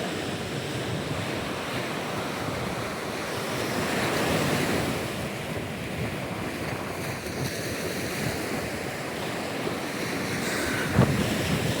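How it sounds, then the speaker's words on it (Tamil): Steady cold wind roars along a seashore with surf washing in continuously, a broad constant rush with no voices. "குளிர்ந்த காற்று வந்துருச்சு."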